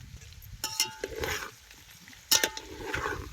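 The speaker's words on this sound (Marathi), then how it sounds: "बटाटा बी तेला चांगला खालवर करून घ्यायचं." Potato chunks are stirred through hot oil in a pot alongside chicken, with two distinct scraping clanks of a spoon against metal over a soft, steady sizzle, close by and without speech.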